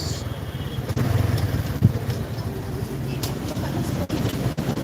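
A motorcycle riding into a parking entrance in heavy Naga City traffic, a close engine drone with uneven rises and dips, a few clunks and traffic around it, and someone speaking over it.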